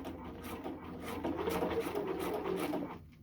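A sewing machine set to straight stitch with a 3 stitch length runs steadily through T-shirt fabric, its rapid rhythmic needle chatter close and continuous for about three seconds before easing off at the end; no talking.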